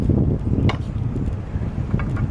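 Wind gusting across an outdoor rooftop, a loud, steady rumbling buffet against the microphone that lasts throughout with no pauses.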